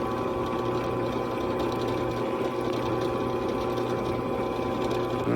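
A chamfer bit, slightly dull, cuts into stainless steel with a steady mechanical whir and hum that holds continuously and close, with no pauses.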